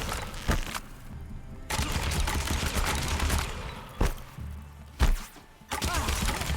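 Enemy shotgun blasts in Horizon Zero Dawn, sharp loud cracks at intervals amid dense clattering combat noise, close and harsh with no voices.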